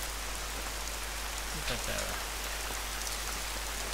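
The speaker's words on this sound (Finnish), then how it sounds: "Ja taas sataa vettä." Steady rain falls in the hunting video game theHunter, set in the Hirschfelden reserve, as a soft, even hiss throughout. Someone briefly speaks over it.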